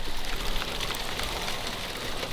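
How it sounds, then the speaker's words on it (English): Big hail falls steadily around a workshop where a 1974 vehicle is being restored, giving a dense, continuous hiss and patter of hard pellets striking surfaces with no pauses. "it started hailing. Some pretty big hail, actually."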